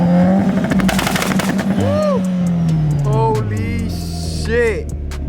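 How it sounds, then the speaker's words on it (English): A tuned Mitsubishi Lancer Evolution holds its two-step launch control and fires a loud, rapid machine-gun crackle of pops and bangs, with sharp revs rising and falling close by and voices heard. "we have to hear the two-step on the car. It sounds insane."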